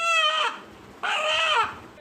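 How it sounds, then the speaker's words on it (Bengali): Two drawn-out, strained bird calls with a rooster-like crowing quality, each about half a second, close and loud with no talking. "অবিকল মানুষের জিকিরের মতোই আল্লাহ আল্লাহ ডাক শোনা যাচ্ছে মোরগের কণ্ঠে"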